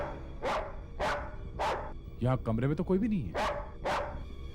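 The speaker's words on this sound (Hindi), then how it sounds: "ये कुत्ता भौंक क्यों रहा है?" A dog barks repeatedly indoors, loud and close, in sharp evenly spaced woofs that pause while someone speaks Hindi, then resume with two more barks.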